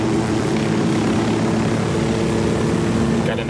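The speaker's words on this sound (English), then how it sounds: "There's a chopper here." A video game helicopter drones loudly and steadily nearby, its rotor and engine hum forming a continuous, unbroken roar for the whole stretch.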